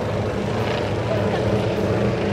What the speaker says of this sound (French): Pas facile à travailler avec des avions équipés d'un moteur de 39 chevaux